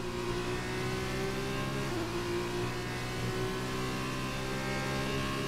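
F2 race car engine in the F1 2021 video game, a sustained high, droning whine with steady harmonic tones and slight pitch shifts as it revs, loud and continuous without talk.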